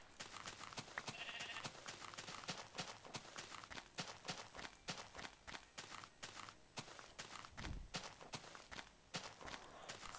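Sheep bleat in Minecraft, mixed with a dense run of rapid, evenly spaced footstep clicks from the game character. A brief high bleat-like sound rises early on over the steady stepping, which stays loud throughout. No one speaks.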